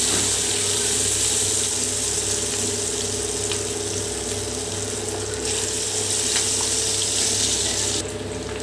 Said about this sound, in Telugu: ఇందులో మ్యారినేట్ చేసి పెట్టుకున్న చికెన్ వేసుకోవాలి.